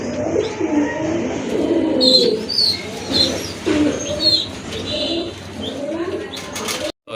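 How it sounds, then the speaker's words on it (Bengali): A pair of gola pigeons, a running breed for sale, coos steadily at close range, with a few chirps and background bird sounds. "এখানে কিন্তু এক জোড়া গড়া কবুতর রয়েছে"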